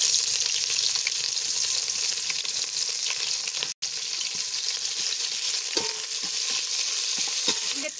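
Sliced onions hitting hot oil with whole garam masala, nutmeg and mace for egg biryani give a steady, bright, close sizzle that runs unbroken apart from one brief cut, with faint stirring clicks near the end and no talk.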